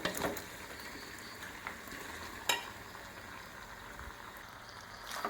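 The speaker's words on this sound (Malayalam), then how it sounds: "ഈ അരപ്പൊക്കെ ഒന്ന് പിടിക്കുന്ന വരെ ഒന്ന് വെട്ടി തിളക്കട്ടെ" Roasted coconut masala with boiled tapioca bubbles and sizzles quietly in a pan, a soft continuous crackle broken by a few sharp clicks and pops.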